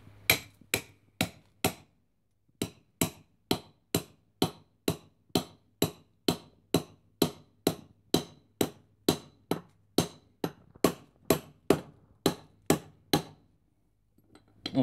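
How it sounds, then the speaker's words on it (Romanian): A homemade welded chainsaw sharpening tool being driven into wood with a hammer, about two dozen sharp, evenly spaced blows ringing out alone after a short pause near the start. "se bate cu sărcurea sau cu un ciocan într-un lemn"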